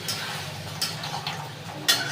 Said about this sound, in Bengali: একটুখানি কষাই, না মশলার গন্ধটা যাবে না।